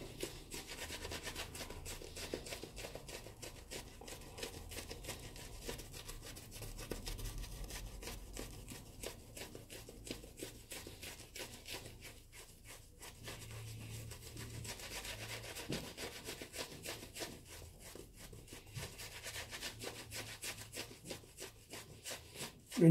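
A shaving brush whips up shaving lather in a bowl for a traditional wet shave, a continuous close, rapid swishing and rubbing with a steady churning rhythm.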